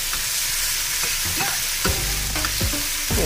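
Garlic frying alongside spinach in a pan, with a continuous loud sizzle and a few close scraping stirs and utensil knocks toward the end, no voice.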